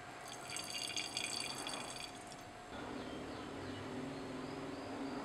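Ethanol poured into a laboratory flask, a faint trickling, dripping liquid flow that shifts partway through as the filling continues, alone without talk.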